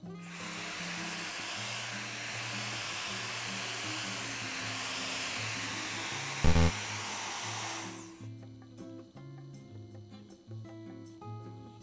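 Protouch Airshot all-in-one hair multi-styler switched on and running, a steady loud airy blowing roar for about eight seconds, then cutting off to a quieter background with faint music.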